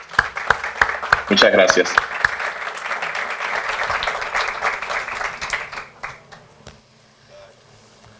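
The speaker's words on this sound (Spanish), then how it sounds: "te damos un gran aplauso" An audience at a blockchain talk bursts into applause for the speaker Joel, a full round of clapping that swells, holds, then fades out, with a voice briefly speaking over it.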